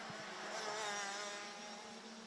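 DD2 and DD2 Masters racing karts drive around the track in a BNL final, a steady, fairly faint engine drone with a slight rise and fall in pitch as they pass.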